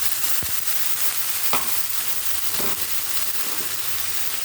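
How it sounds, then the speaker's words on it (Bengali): A spice paste of onion, ginger, garlic and tomato frying in hot oil gives a steady, close sizzle throughout, broken by a few soft stirring knocks. "এবার এই পেস্ট করে রাখা মশলাটা দিয়ে দেবো। এই মশলাটার মধ্যে পেঁয়াজ, আদা, রসুন, আচ্ছা টমেটো আছে, এগুলো সব দিয়ে দিলাম।"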